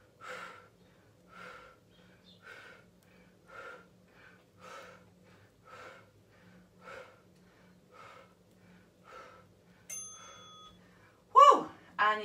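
A person exercising breathes out hard again and again in a steady rhythm, about one breath a second, close and fairly quiet. A brief ding and a louder gasp come near the end.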